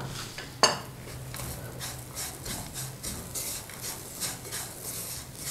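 Semolina roasting with dry fruits and cardamom powder for suji laddu, stirred in a pan: steady soft scraping and rubbing strokes with a sharp utensil clink near the start, continuous and close.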